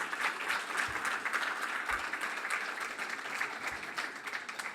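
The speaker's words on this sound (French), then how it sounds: "Ça s'applaudit, non?" An audience applauds a world pastry champion with soft, steady clapping heard from a distance at low volume, continuing evenly throughout.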